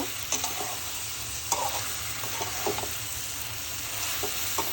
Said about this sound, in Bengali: এখন আমি একটু কষিয়ে নিব বন্ধুরা দেখো অল্প একটু সময় কষিয়ে নিলাম